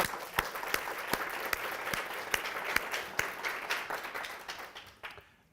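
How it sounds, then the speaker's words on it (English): An audience claps steadily for caregivers at a breast cancer education talk, a sustained crackle of applause with a few sharp individual claps standing out, fading away over the last second. "a big round of applause to all the caregivers"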